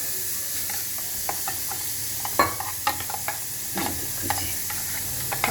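A spoon stirs salt into a chopped vegetable mixture in a bowl, giving soft wet rustling with irregular sharper clicks and knocks at close range and no talking.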